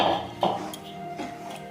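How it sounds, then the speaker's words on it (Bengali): A utensil stirs 200 grams of boiled rice flour in a pan over very low heat for a rice cake, giving a few light metallic clinks and taps against the pan amid a soft, quiet background. "এটা খুব আস্তে একদম ধিমি আঁচেতে নাড়তে হবে, যাতে নিচে না জ্বলে যায় বা লেগে যায়।"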